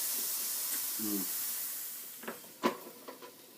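A Cuban sandwich frying in butter on a hot grill gives a steady, close hiss of sizzling, broken by a few sharp knocks as the press is handled and flipped, with a voice speaking briefly.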